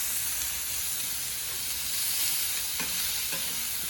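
Carrots, Irish potatoes and onions stir frying for a venison stir fry on a sheet metal cooktop outdoors in cold weather, a steady bright sizzle with a few scraping stirs near the end.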